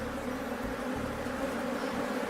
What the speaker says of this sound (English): He says there is an aggressive beehive close by, and he suspects it might be inhabited by killer bees.